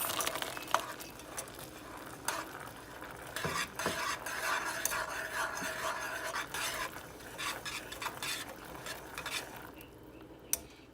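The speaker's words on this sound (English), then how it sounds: "you're gonna stir in a 1/2 cup of pecans" Pecans being stirred into a hot, just-boiled bread pudding mixture in a pot: continuous close scraping and swishing of a spoon, with occasional clinks against the pan, at moderate level and no voices.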